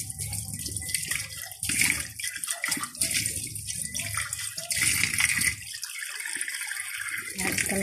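Water pours into a cooking pot of stew with bell pepper, a rushing, splashing flow that comes and goes in bursts, with a voice talking over it at times.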